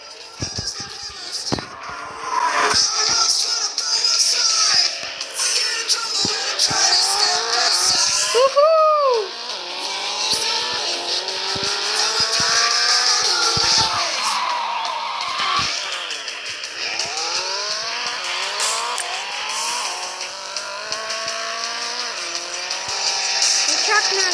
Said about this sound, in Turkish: Çok hızlı araba.